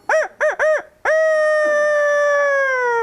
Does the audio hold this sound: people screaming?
no